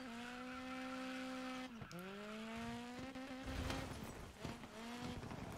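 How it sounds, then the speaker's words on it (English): A Peugeot 208 doing donuts and drifts in Arizona in the video game DiRT 5, a droning engine note that rises and falls with bursts of tyre squeal and skidding, fairly faint and without talk. "Let's do some donuts and drifts."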